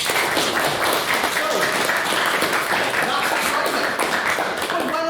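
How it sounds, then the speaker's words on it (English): A crowd at an event gives a round of applause, a dense, continuous clapping that stays fairly even throughout, with some cheering mixed in. "Give them all a round of applause"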